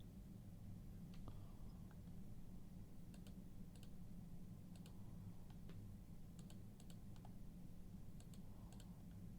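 Computer keyboard keys clicking in scattered bursts of quick typing, close and fairly faint over a steady low hum, with no voices.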